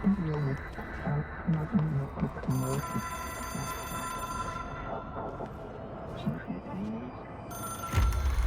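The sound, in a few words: telephone ringing in Control video game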